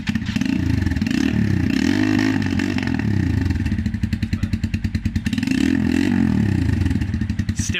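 A modified Keeway motorcycle engine revs loudly and close, rising and falling through several blips with a harsh, raspy exhaust, settling into a steady rapid idle between revs.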